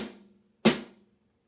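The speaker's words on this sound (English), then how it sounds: "So if we're just doing the right hand flam tap" Right-hand flam tap rudiment on a drum: the fading tail of one stroke, then a single sharp, loud close hit that rings out briefly before silence.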